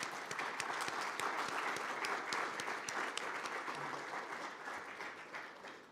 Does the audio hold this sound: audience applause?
yes